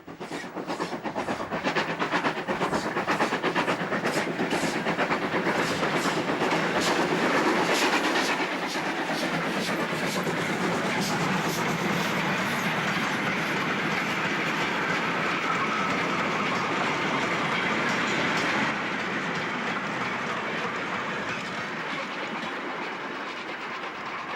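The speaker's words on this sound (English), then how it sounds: "A rare sight these days is a steam-hauled goods train." A steam locomotive hauling a goods train rumbles past steadily with rapid clickety-clack of wheels on rails and a hissing undertone, fading slightly toward the end.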